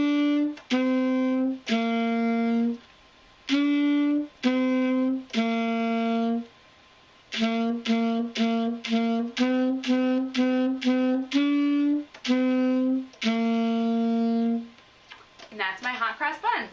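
A saxophone plays Hot Cross Buns in a beginner lesson, with clear separated notes in the three-note tune, including a run of repeated tongued notes, ending with a short trailing flourish.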